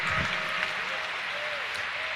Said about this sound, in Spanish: aplauda fuerte al Rey de Reyes y Señor de Señores